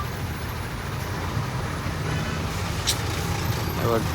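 Continuous heavy traffic rumble with a large truck engine droning nearby and a brief hiss of air brakes, under faint background voices.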